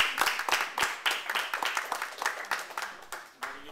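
Guests at a candle-lighting ceremony clap in a close, irregular patter of a few pairs of hands, fairly near and moderate in volume, tapering off toward the end.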